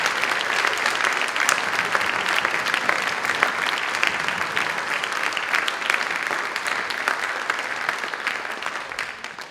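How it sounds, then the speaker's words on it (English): Audience applause for a high school orchestra at an end-of-year celebration: sustained, dense clapping from a large crowd for several seconds, easing slightly toward the end. "could you please give them another round of applause for what they just did?"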